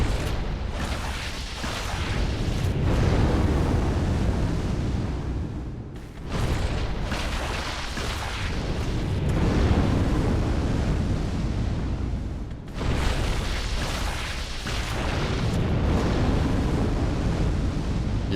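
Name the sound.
boss fire attack in the video game Dark Souls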